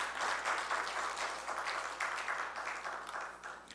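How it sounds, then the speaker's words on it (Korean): Congregation in a Korean church giving a round of applause for the children of the church school, a dense steady clapping from many people in a hall, fairly soft and gradually tapering toward the end. "다시 한번 박수하도록 하십시다."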